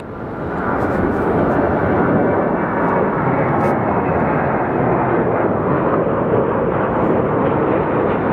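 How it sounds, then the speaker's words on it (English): American Airlines airliner lining up at Phoenix Sky Harbor: a steady, broad jet roar, loud and continuous from start to finish with little change, heard from nearby on the airfield. "Then up next we have American 1587 going to JFK. That is about to line up."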